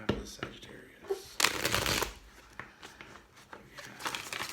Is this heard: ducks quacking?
no